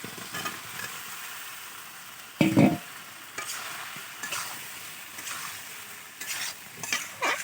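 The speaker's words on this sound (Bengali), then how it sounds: "এই চালমগজ বাটাটা দিয়ে একটু অল্প কষাতে হবে।" Poppy and melon seed paste being stirred and sautéed in a pan for a Bengali fish curry with drumsticks, with soft sizzling and a few louder scraping stirs at close range, no talking.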